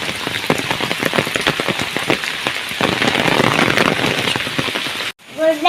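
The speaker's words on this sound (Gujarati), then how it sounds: "ગાઈસ વરસાદ ફૂલ આવે છે" Heavy rain pours down in a dense, unbroken hiss with scattered sharp drop impacts on surfaces, loud and close, before cutting off abruptly near the end.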